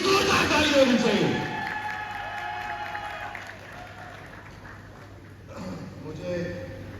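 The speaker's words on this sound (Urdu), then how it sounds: "1 2 and 3 زوردار تالی ہونی چاہیے" Audience at the Citi Housing Mirpur pre-launching ceremony clapping loudly, a dense burst of applause that fades within about two seconds, followed by someone speaking over an amplified sound system.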